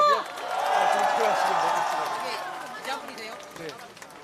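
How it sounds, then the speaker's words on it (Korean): Rally crowd applauding and cheering outdoors, a sustained dense roar of clapping that swells early and slowly fades, with voices mixed in. "큰 박수 부탁드립니다"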